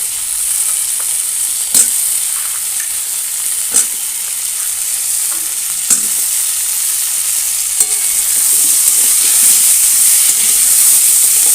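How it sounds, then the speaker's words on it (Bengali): Potatoes frying in oil alongside pointed gourd in a pan for a fish curry, a steady close sizzle running throughout with a few sharp scrapes or taps of a utensil at intervals. "তো আলুগুলো এবার আমি একটু অল্পভাবে ভেজে নেব।"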